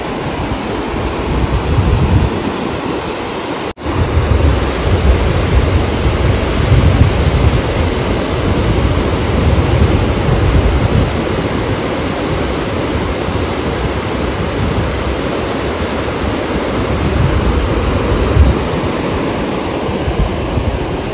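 Sea waves rolling onto Bordi Beach make a steady, loud broadband wash of surf, with wind buffeting the microphone throughout and one brief dropout early on.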